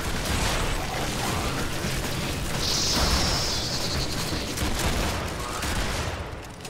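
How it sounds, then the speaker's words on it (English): Player gunfire in Warframe rattles in dense, rapid bursts amid other game effects, a steady loud barrage of shots without any speech. "Better start firing my gun now."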